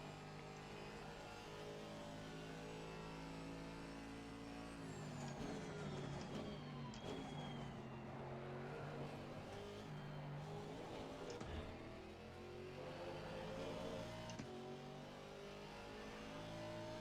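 An Aston Martin GT4 race car engine drones and revs around Suzuka in a racing game, a continuous loud buzzing note that climbs and drops with gear changes and corners, close and unbroken, with no talk.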